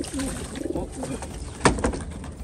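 Pigeons cooing inside a racing pigeon loft, with soft, repeated low coos close by, a few brief sharper sounds, and a bit of fluttering.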